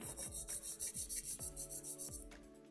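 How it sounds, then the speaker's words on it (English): A nail file is drawn repeatedly across the free edge of a sculptured pink-and-white acrylic nail to square it, giving quick, rhythmic rasping strokes, close and quiet. "I'm going to make the nail square, so I'm going to hold my file straight up and down"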